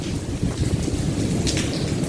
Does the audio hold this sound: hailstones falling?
yes